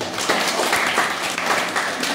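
Church congregation breaking into applause during a worship service, a dense, steady wash of clapping throughout with little sign of talk.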